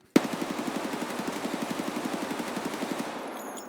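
Automatic rifle in Escape from Tarkov emptying a full magazine in one sustained burst, a steady rapid rattle of evenly spaced shots for about three seconds before stopping.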